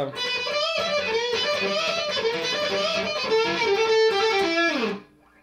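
A distorted electric guitar plays a quick blues lick, a rapid run of bent and sliding notes that ends on a held tone before cutting off.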